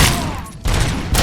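Dense bursts of gunfire from the video game RoboCop: Rogue City, loud and close, a rapid fusillade that briefly drops out mid-clip before resuming in heavy volleys.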